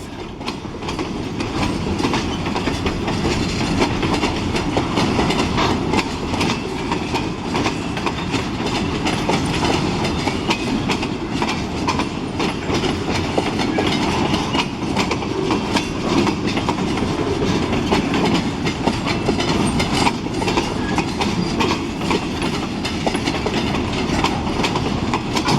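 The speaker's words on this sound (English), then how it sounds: "Escanaba Lake Superior Railroad heading south." A long Escanaba Lake Superior Railroad freight train heading south, rumbling past steadily nearby with continuous wheel clatter and rolling noise at an even loudness throughout.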